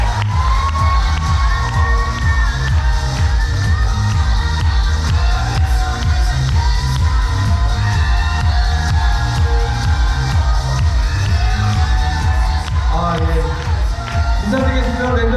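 A seminar crowd at a resort in Cheonan, Korea, cheers and claps loudly to welcome a speaker, with constant whooping and shouting from many people over pounding, rhythmic background music, the noise staying near and full throughout.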